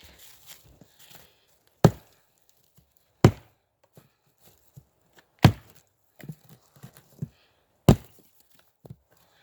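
A TOPS Steel Eagle Delta Class knife chops into wood with five sharp, loud strikes spaced a second or two apart, separated by quieter rustling and small knocks.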